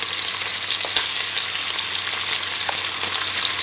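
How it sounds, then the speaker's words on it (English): Sausage and shallot fry in oil in a pan, a loud, dense, continuous sizzle heard up close with faint stirring crackles. "I'm going to do the sausage first to get nice and brown."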